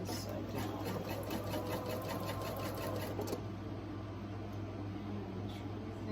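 A sewing machine stitches through quilt fabric in a steady, close, continuous whir, its rapid needle pulse slowing slightly partway through.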